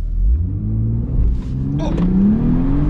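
A BMW M140i xDrive Stage 1 tuned to over 400 hp and 600 Nm launches from a standstill, its engine revving up loudly with rising pitch through a gear change, close and dominant, with brief voices in the car.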